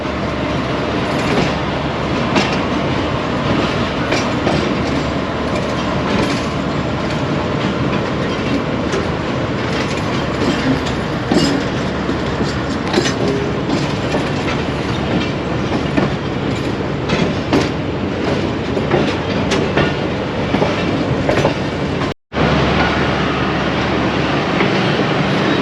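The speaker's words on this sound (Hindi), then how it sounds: "लाहौर जंक्शन रेलवे स्टेशन से चलने के बाद अगला स्टॉप किया शादरा बाग जंक्शन पर, और अब वहाँ से रवाना हो रहे हैं" Mianwali Express train pulling out of Shahdara Bagh Junction, with a continuous loud rumble and rhythmic clattering of wheels on rails throughout and a very brief dropout near the end.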